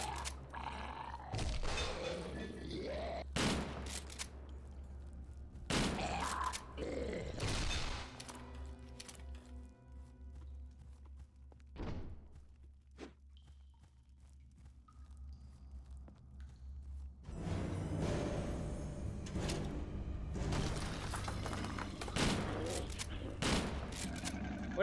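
Gunfire bursts from a shotgun in the PC shooter game Real RTCW mod. Several loud, sharp blasts come in irregular clusters, mixed with scuffling footsteps and other game noise.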